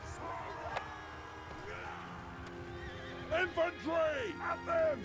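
Cavalry horses in Mount & Blade Bannerlord neighing and whinnying in several overlapping calls over galloping hoof clops, the whinnies clustering toward the end, with battle noise and a voice in the background.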